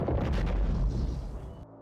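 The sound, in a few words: boom like a cannon shot as chimney bricks burst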